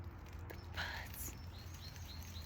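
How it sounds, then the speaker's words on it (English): Faint, high bird chirps come and go over a steady low hum, a few short tweets scattered through the stretch. "Look at, listen to the birds."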